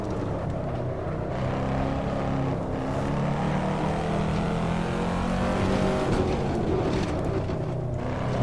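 A Corvette C7 Stingray in the racing game Assetto Corsa drones with a steady, loud engine note, and the pitch drops as it shifts up a gear.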